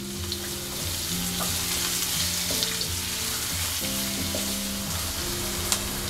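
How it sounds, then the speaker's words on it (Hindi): Onion, green chili and ginger sizzle and fry steadily in hot oil with cumin seeds, a loud continuous crackle with low clinks of stirring running throughout, no voices. "तेल गरम हो गया है, जीरा डालेंगे, तुरंत प्याज डालेंगे, हरी मिर्च अदरक"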